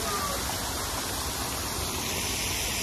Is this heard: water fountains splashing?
yes